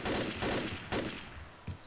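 Several bursts of game gunfire fired at zombies in Left 4 Dead, loud and close, with three heavy volleys and a shorter final shot, no talk over them.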